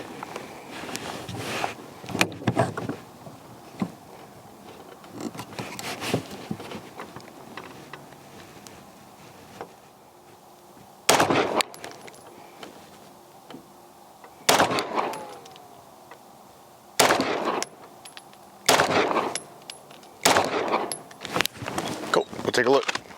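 Rifle shots fired at a 10-yard target while zeroing a Primary Arms ACSS optic with 115-grain ammunition, about eight sharp, loud, widely spaced cracks over light handling noise and faint background talk.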